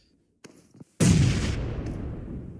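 A grenade goes off in PUBG Mobile during a competitive esports match: a couple of faint clicks, then a sudden loud, close blast that rolls on into a long decaying rumble.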